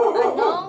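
A pet dog gives one short, strained vocal burst indoors, a near and fairly loud yelping bark-whine lasting under a second.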